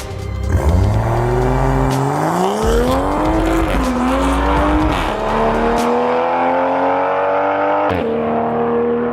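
Toyota Supra SEMA build on a drag strip run at low tire pressure, its engine winding up loud and close with rising pitch through several gear changes, tires squealing briefly at launch and a sharp shift crack near the end.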